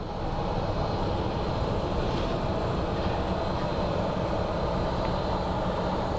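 A passenger airplane approaches Phoenix Sky Harbor Airport with a loud, steady broadband engine roar. The roar holds evenly across the whole stretch, with no voices over it.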